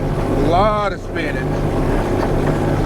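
A 4440 tractor engine labors heavily under load while its wheels spin in sandy ground, a loud, steady drone close to the microphone with wind noise and a brief dip in the middle.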